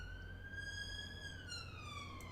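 Emergency vehicle siren in the city-building game Cities: Skylines, a single clear wailing tone that holds and then slowly falls, steady and unbroken under faint background hum.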